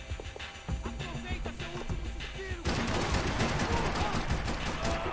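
Pistol shots in the video game Max Payne 3, a string of sharp cracks ringing out amid game noise, then a louder, denser stretch of rapid gunfire, with a voice briefly heard.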